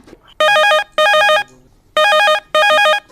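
A loud electronic telephone ring on a Chhattisgarhi radio phone-in song request show sounds in two pairs of warbling bursts, separated by a short gap, with no talking.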